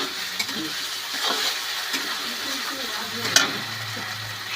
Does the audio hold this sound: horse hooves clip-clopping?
no